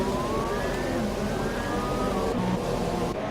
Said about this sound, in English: I can hear the first car going out.